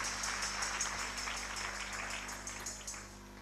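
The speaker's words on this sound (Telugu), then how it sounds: "అందరూ చప్పట్లు కొట్టి దేవుని మహిమపరుద్దాం" A church congregation claps together during a worship service, a dense steady patter of many hands with a faint rhythmic pulse, held at a moderate level for a few seconds with no voices.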